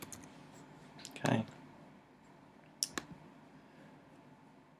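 A couple of sharp, faint computer mouse clicks while someone works on a chart in an Excel spreadsheet, separated by a pause, with a brief spoken word in a quiet room.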